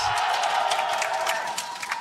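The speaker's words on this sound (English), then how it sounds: "Just give me a cheer." A large crowd at an LEC 2022 Spring playoff match between G2 and Fnatic cheers loudly and steadily throughout, a dense sustained roar with scattered claps.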